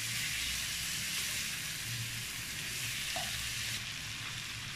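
A cheesy chicken fritter mixture fries over a medium flame in a pan, giving a steady, close sizzle with a bright hiss and no voices.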